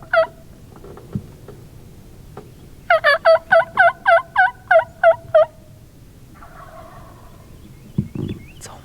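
Wild turkey gobbling in the woods: a loud, rapid rattling burst of about eight pulses close by, preceded by a few scattered calls and followed by quieter clucks in an otherwise calm outdoor setting.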